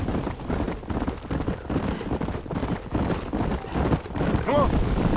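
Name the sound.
horse galloping in Red Dead Redemption video game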